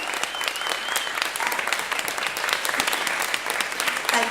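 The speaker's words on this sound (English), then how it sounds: "A big round of applause, everyone, for Trish Dee." A gallery crowd at a live conversation event at Manchester Art Gallery gives warm, steady applause, crisp individual claps blending into a continuous patter, moderately loud throughout.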